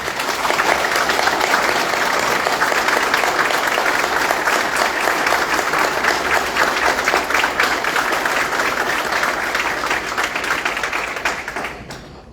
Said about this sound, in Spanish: te damos las gracias y un fuerte aplauso.